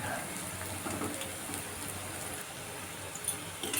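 Banana flower chops deep-frying in a pan over high gas flame, giving a steady dense sizzle like rain, with faint scraping of a spatula now and then.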